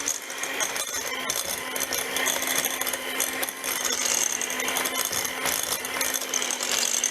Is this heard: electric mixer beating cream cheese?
yes